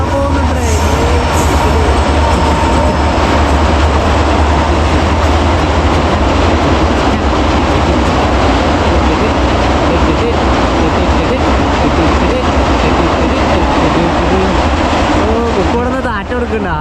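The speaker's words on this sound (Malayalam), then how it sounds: "അതിലൂടെ ഇപ്പോൾ ട്രെയിൻ വരും." A train crossing a river bridge, a loud, close, continuous rumble and rattle of wheels and wagons lasting the whole stretch, with a harsher clatter near the end.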